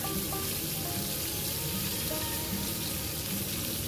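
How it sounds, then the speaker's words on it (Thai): Homemade Isan sausages of pork and rice grilling in a dry pan without oil, a dense, continuous sizzle and crackle close by with no talking. "ก็จะย่างย่าง น้ำมันแห้งๆ ก็ย่างต่อไปเรื่อย ๆ จนสุกนะคะ"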